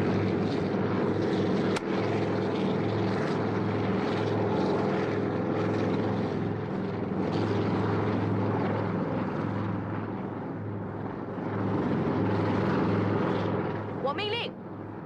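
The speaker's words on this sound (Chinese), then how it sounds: "直升飞机掩护" A helicopter flies close by in a Vietnam War setting, its engine and rotors making a steady, loud, droning whir that holds throughout under a dense layer of battle noise and shouting voices.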